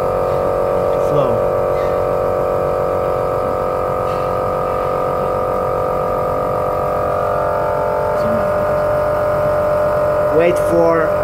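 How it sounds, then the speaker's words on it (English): A vacuum pump hums steadily for a rapid test extraction, a constant buzzing drone that runs loud and unbroken throughout with no pauses. "Turn on the vacuum pump and let the liquid flow."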